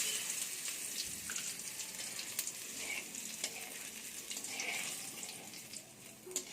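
Cumin, dried chillies and whole spices frying in hot oil, a quiet continuous sizzle and crackle with occasional small pops and stirring sounds throughout.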